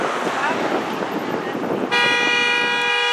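Crowd noise and chanted shouting at a housing protest give way to a loud, sustained car horn blaring close by.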